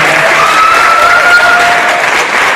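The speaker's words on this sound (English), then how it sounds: "I would give these guys another round of applause." Loud, steady audience applause at a team event, dense clapping filling the room from start to finish, with a faint tonal whistle running through the middle.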